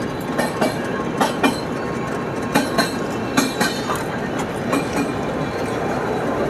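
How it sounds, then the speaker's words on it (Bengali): Radhikapur Express train crossing the Farakka Barrage bridge, a loud, close rhythmic clickety-clack of wheels over rail joints repeating in pairs over a continuous rumble. "চলে গেল ট্রেনটা দেখতে পাচ্ছেন"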